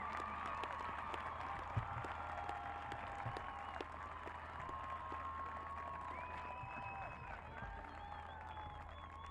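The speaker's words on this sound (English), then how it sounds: "Let's give all of our graduates a round of applause." Applause for graduates rises from a large crowd at a spring university commencement, a soft, distant, steady patter of clapping with a low hum and faint voices beneath.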